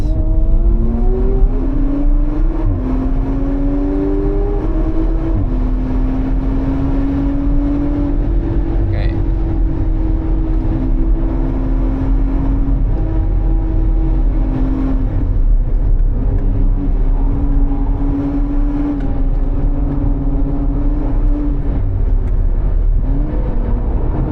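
An Audi RS4 engine roars steadily at high revs against the rev limiter on the Nürburgring, its pitch holding nearly flat, loud and continuous for the whole stretch.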